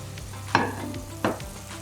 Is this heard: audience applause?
no